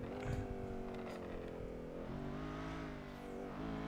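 A car engine in a roleplay video game hums and purrs steadily with slight shifts in pitch, fairly quiet and without talk.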